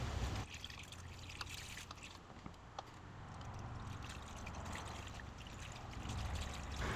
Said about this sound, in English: I first put some antifreeze in so it's not completely dry.